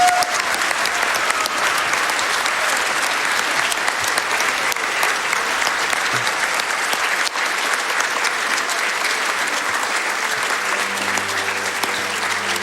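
A crowd applauds steadily and loudly at a speedrun event after a Super Mario Sunshine run, continuous clapping filling the whole stretch, with a faint voice near the end.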